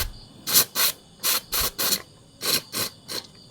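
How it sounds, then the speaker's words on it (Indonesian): Compressed air sprays in short, sharp hissing bursts through a cleaned fuel injector from a Honda Vario scooter, with about nine close, loud blasts in an uneven rhythm and quiet gaps between them. "coba semprot menggunakan udara bertekanan begitu ya."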